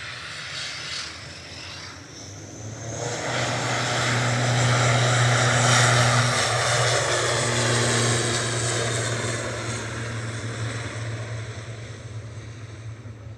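Aurigny propeller airliner leaving Manchester Airport for Guernsey, a droning turboprop with steady low engine tones that swells as it passes nearby, then slowly fades.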